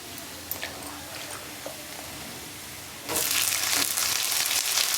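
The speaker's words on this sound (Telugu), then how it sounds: "ఉల్లిపాయలు ఇలాగ వేగిపోయిన తర్వాత ఇలాగ వంకాయ వేయాలన్నమాట. వంకాయ తీసి ఇలా వేయాలి." Eggplant goes into a pan of fried onions, and a loud, steady sizzle bursts up at once after a few quiet clinks.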